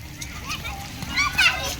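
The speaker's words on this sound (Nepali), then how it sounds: "पानीले यहाँ छ्याप्दो रहेछ" Water splashes from the stone spouts of the twenty-two-spout fountain at Kathmandu, bright spattering bursts mixed with children's voices and chatter nearby.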